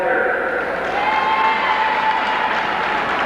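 A crowd in a half-full high-school gymnasium claps steadily through the starting lineup introductions at a 1988 Norristown boys basketball game, with a public-address voice talking over the applause.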